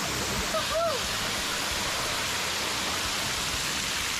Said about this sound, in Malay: Air terjun tu cantik.